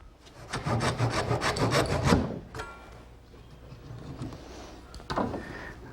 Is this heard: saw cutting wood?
yes